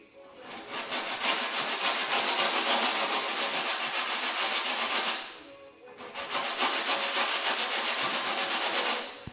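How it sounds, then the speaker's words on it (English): A flat block with 80-grit paper squares off the edge of a repaired fender on a 2010 Honda Civic sedan, making two long, loud, steady sanding passes with a brief pause between them. "I'm going to go back to the 80 grit on the flat block and go here and square this edge off"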